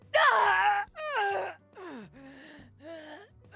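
Shyvana, a League of Legends character, lets out a drawn-out death cry in a video game, a series of strained groaning moans and breathy wails in several bursts, loud and close with no other talk.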